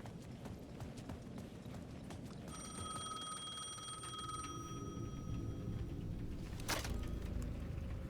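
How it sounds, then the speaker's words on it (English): A payphone rings at the edge of a dark plaza in the video game Alan Wake 2, a thin metallic bell tone sustained for a couple of seconds over low ambient rumble and clopping footsteps, with no speech. "The payphone at the edge of the plaza was ringing again."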